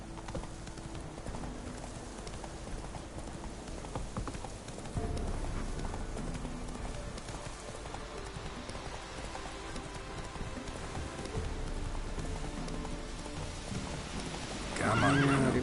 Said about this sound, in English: Oke, Run, Roach.